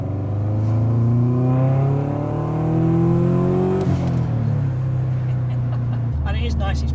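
A 4x4 VW Golf GTI with a swapped Subaru engine accelerates up through the revs, its engine note climbing steadily and then dropping back as it shifts. The engine is loud and close throughout, with people talking underneath it.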